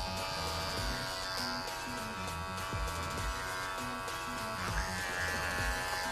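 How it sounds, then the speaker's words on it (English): Andis electric hair clipper, flipped over and used as a trimmer on a women's faux hawk haircut, buzzes steadily and close throughout, with a constant motor whine that shifts slightly in pitch as it works along the nape. "So now I'm going to turn my clipper over and use it like a trimmer."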